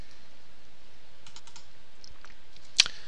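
Username and password being typed on a computer keyboard: soft, steady keystrokes close by over a faint hum, ending in one sharper click.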